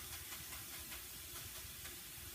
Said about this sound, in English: You can hear them sizzle.